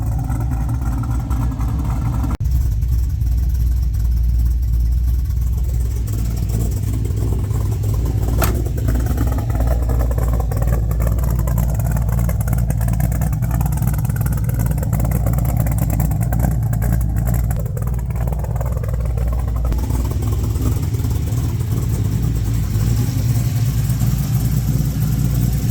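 A 1969 Camaro with an LS3 swap and custom exhaust idles with a steady, deep mechanical drone, heard up close, with occasional light revs lifting the engine note.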